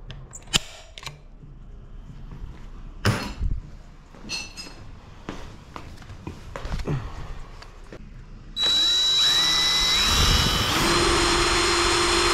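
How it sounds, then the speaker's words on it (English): A power drill bores a hole during a dual-battery install on an Ariel Rider X-Class 52-volt e-bike, starting abruptly after scattered handling clatter and whining loud and steady to the end, its pitch shifting as the bit bites. "So let's drill the hole"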